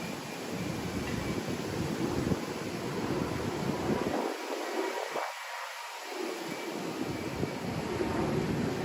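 Outdoors in Central Florida, wind buffets a microphone with a steady low rumble and hiss that swells and dips but never stops.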